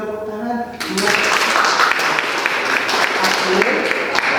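A classroom audience bursts into loud, sustained applause right after a brief voice, with dense clapping that continues evenly to the end.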